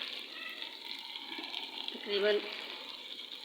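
Vegetables simmer and sizzle softly in a pan after two tablespoons of water go in, giving a steady bubbling hiss, with a brief spoken word.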